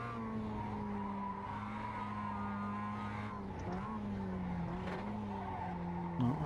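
Mazda MX-5 race car in iRacing at Oulton Park, tyres squealing as they slip, a steady engine drone with wavering tyre screech layered over it, moderately quiet and continuous.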